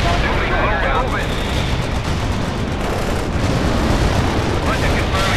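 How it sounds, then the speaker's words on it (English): Mortar strike explosions in the video game World in Conflict, a dense, continuous roar of blasts and rumbling gunfire filling the whole stretch, loud and sustained with no quiet gaps. "Mortar strike report on the right."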